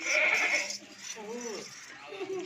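A goat at a livestock sale bleats in a few wavering cries, moderately close, following a brief high-pitched burst at the start, with no speech over the calls.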